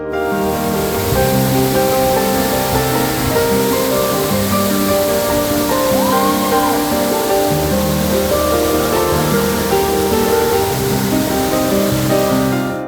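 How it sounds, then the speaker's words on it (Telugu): Gandahati waterfall on the Mahendratanaya river in Gajapati district, Odisha, pours in a steady, loud roar of falling water that holds constant across the whole stretch, with no voices. "ప్రకృతి ప్రసాదించిన జల సవ్వడి ఒడిశా గజపతి జిల్లాలోని గండహతి జలపాతం ఇది"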